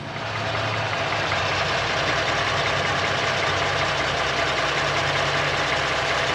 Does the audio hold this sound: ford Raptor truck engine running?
yes